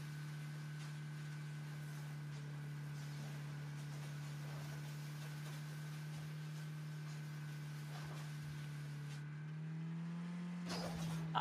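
Steady engine drone of a car being driven in an open-world looting game, a constant low hum holding for most of the stretch before shifting and revving briefly near the end, with no talk over it.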